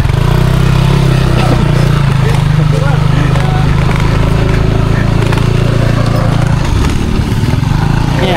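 A motorcycle engine running loud and close on a trail ride, a steady low rumble that holds for several seconds before shifting near the end, with voices faintly audible over it.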